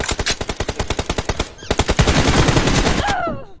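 Rapid automatic gunfire in PUBG Mobile crackles in a fast, even rhythm of sharp shots, pauses briefly, then resumes as a denser burst before ending in a ricochet-like whine.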